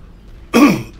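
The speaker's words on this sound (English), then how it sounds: "let me cough this out." A man coughs and clears his throat once, a sudden loud rasping burst lasting about half a second after near silence, close to the microphone.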